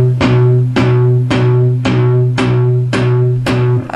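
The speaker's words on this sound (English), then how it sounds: "find a happy medium where it sounds like this" Palm-muted electric guitar strings plucked in a steady chug, about seven damped hits with a sustained low note ringing beneath, close and loud, with no voices.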